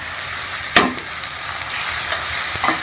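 Spices for achari arvi fry (bhuna) in a pan with a steady, loud sizzle, broken by a few scraping strokes of a spoon stirring them, and no voices.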